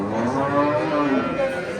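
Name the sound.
cow mooing at a cattle market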